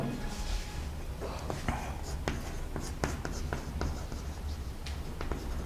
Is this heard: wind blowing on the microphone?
no